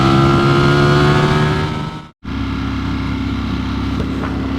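A Ducati Streetfighter V4S motorcycle engine drones loud and steady while riding at an even throttle, a sustained tonal roar that cuts out for a split second midway, then resumes at a slightly different pitch.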